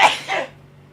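A single sharp, explosive sneeze bursts out close by, followed by a softer exhaled tail that fades into quiet.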